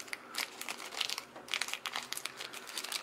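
Plastic wrapping crinkles and crackles around a Banpresto Mari plug suit figure, with close, irregular bursts of rustling handling.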